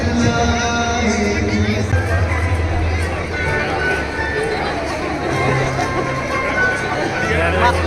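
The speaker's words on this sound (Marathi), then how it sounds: "प्रचंड गर्दी आहे" A huge crowd packs a temple feast, a dense and steady babble of many voices chattering nearby with a continuous hubbub throughout.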